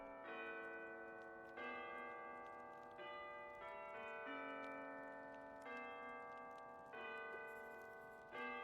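Distant bells ringing at New Year in the cozy video game Tiny Bookshop, a steady chime pattern with strikes roughly every second or so, soft and sustained without any voices.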